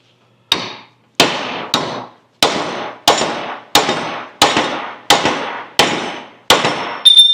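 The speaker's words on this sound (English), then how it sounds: "First thing I want to do is remove this shackle bolt." Roughly ten sharp, evenly spaced metallic hammer blows ring out up close while a shackle bolt is driven from the rear leaf spring of a Scout 800, each strike loud and quickly decaying, with no talking.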